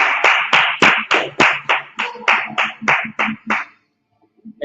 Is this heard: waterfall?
no